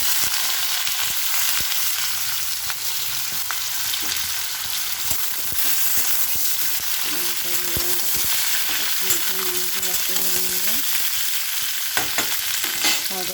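Potato pieces frying with nigella seeds in hot oil in a pan, a steady loud sizzle running throughout with occasional stirring scrapes and clinks.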